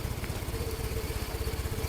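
A motorcycle engine idles steadily on a small street, its low chugging rumble pulsing evenly throughout before the rider pulls away.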